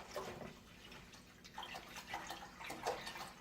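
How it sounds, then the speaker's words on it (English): Apple cider is poured into a pot on the stove as a soft, steady liquid trickle with faint splashes, quiet and close, with no talking over it. "we're just going to pour that apple cider right"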